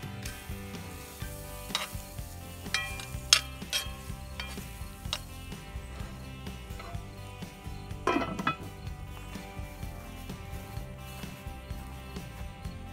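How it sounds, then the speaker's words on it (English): Onions frying in butter and olive oil in a cast iron pan on a refurbished wood stove cooktop, a constant sizzle under repeated scraping and clinking of a utensil stirring, with one sharper scrape partway through. "I'm going to go ahead and throw some onions, butter, and olive oil in there"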